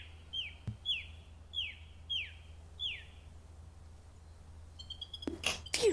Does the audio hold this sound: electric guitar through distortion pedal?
no